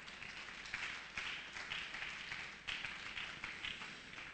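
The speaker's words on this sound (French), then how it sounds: "Applaudissons le Seigneur Jésus." A church congregation applauds in faint, sustained clapping with rhythmic swells, as if clapping in time, heard distantly and without speech.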